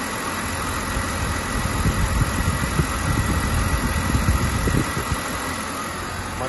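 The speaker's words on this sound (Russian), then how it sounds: "Работа двигателя." The engine of a 2009 BMW X5 idles steadily, a continuous low rumble with slight vibration, heard up close and alone.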